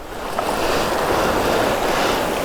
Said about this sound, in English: right as the rapids kind of start dropping down into the deeper water